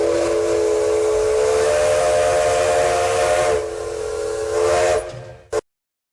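A steam locomotive's whistle blows loud and close in one long, steady, hissing blast that dips briefly before a final short burst and silence.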